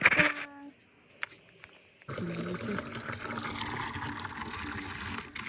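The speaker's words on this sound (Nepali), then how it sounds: "पानी भर्यो" Water pours into a container after a quiet start with a few brief tonal, voice-like sounds, then a steady rushing splash begins abruptly and carries on evenly and fairly close.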